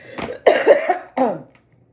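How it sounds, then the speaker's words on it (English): A person coughs a few times in quick succession, close and fairly loud, a short hacking burst followed by silence. "Sorry about that cough."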